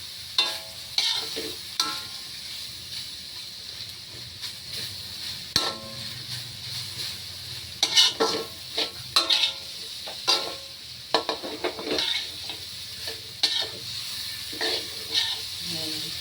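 Pork and a little sliced garlic fry in oil in a pan, a steady close sizzle and hiss broken by repeated scraping stir strokes and clatter, with no one talking.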